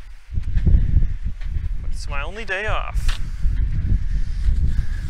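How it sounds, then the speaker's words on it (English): Low rumbling wind buffets the microphone throughout, with a person speaking briefly over the gusty noise, outdoors during valve lifter replacement on a VW/Audi 1.8T engine. "Sorry about the wind if you can hear that."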